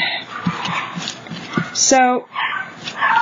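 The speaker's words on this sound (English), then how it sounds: "the dogs are, of course, barking. What would be a chihuahua without any barking?" Small chihuahuas yip and bark in quick, sharp bursts while a person talks over them.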